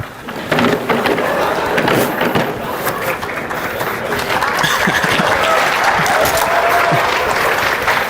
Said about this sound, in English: It's the first round of applause we've ever gotten on a lecture prank.